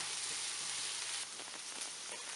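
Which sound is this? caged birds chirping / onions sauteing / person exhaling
onions sauteing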